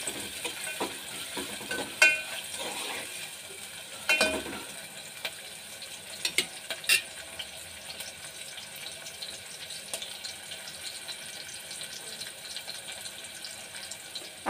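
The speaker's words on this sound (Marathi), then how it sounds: "कांदा टाकून झाल्यानंतर तो आपण चांगला परतून घेऊया ब्राऊन येईपर्यंत" Chopped onions fry quietly in a pan and are stirred until brown: a soft, steady sizzle runs throughout, broken by a few light scrapes and clicks from the spoon.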